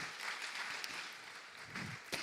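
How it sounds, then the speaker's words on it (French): An audience at a cybersecurity award ceremony claps, a soft, fairly distant wash of applause that carries on evenly with a couple of sharper claps near the end. "Vous pouvez l'applaudir."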